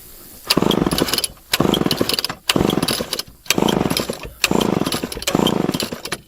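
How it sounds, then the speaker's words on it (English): A chainsaw's engine is pulled to start repeatedly, each loud sputtering burst of engine noise cutting in and out about five times in a steady rhythm, close by and alone. "get the chainsaw about started"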